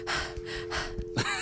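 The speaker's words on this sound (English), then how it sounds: "And I'm panting." Rapid, excited panting in short, breathy bursts, about five quick huffs in under two seconds, close and fairly loud with a hum of background tone.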